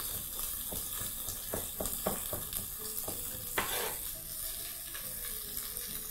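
A knife chops a carrot in a quiet string of irregular, crisp taps on a board, bunched in the first half, with a soft scrape afterward.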